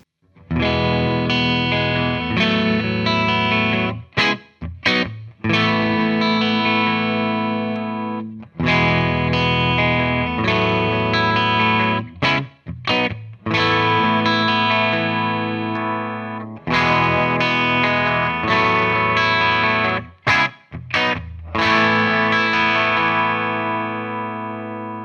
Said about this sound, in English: Here's what different pickup combinations sound like through the clean channel of Hughes & Kettner Black Spirit 200.